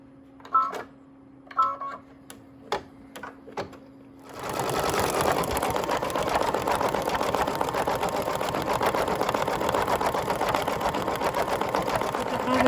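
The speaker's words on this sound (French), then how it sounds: "J'ai remis le cadre à la machine et je vais broder le remplissage du chapeau de la même couleur que le contour." A few light taps and clicks, then an embroidery machine starts up and stitches the fill of a hat motif, a steady, fast mechanical rattle running loud and close until the end.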